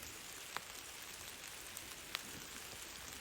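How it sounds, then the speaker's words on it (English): Rain falls outdoors near a forest where a wildfire burns, a soft steady hiss of drops with a couple of sharper isolated taps, faint and continuous with no talking. "And it is raining out here today, so that'll be a good help."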